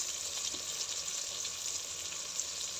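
Potatoes and vegetables fry in a pan with spices, giving a steady, soft bright sizzle throughout with no talking.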